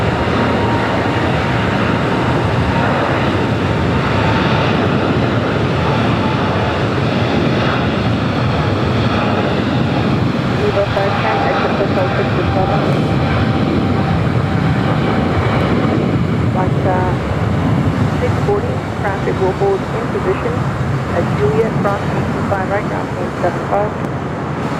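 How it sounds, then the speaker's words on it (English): A Viva Aerobus airliner lands on runway 25 left at Los Angeles LAX. A steady, heavy roar fills the whole stretch, with radio voices talking over it. "Viva Aerobus landing on 25 left."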